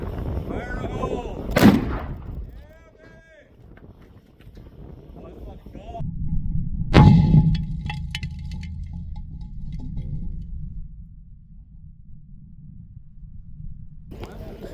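Explosive blast shattering hard rock at a demolition site, a sharp heavy boom followed later by a second deep blast and rumbling debris, loud, with people talking and wind noise around it.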